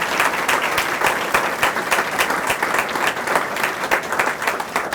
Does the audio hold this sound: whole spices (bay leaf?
no